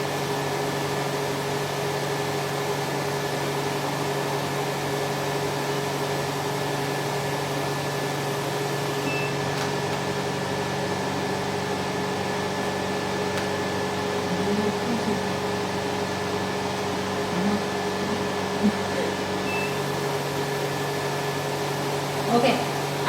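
A cryolipolysis slimming machine, model NBW C325B, runs its suction at high pressure, giving a steady mechanical hum and hiss that stays even throughout, with a few faint clicks and no talk heard.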